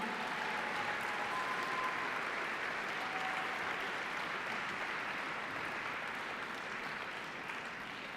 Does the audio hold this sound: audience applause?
yes